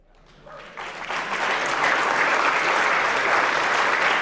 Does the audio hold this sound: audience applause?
yes